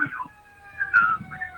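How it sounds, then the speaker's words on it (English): Ambulance siren passing outside a city home, a faint wavering tone heard distantly through a phone line on a radio call, with brief low sounds around it. "Oh, there's an ambulance or something."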